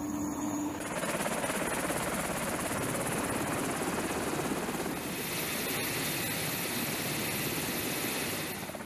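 A helicopter flies near a naval expeditionary sea base ship, its rotor and engine producing a loud, continuous, close-sounding roar that holds steady throughout.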